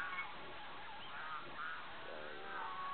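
Geese honking in a loose chorus, moderately near, with overlapping nasal calls repeating steadily and no talking.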